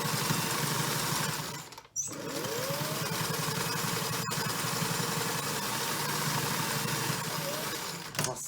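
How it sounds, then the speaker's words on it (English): A sewing machine stitches the ends of homemade fabric dog boots in a continuous, steady mechanical whir, close and loud, with a brief pause near the start. "We'll stitch the ends so that they don't come apart."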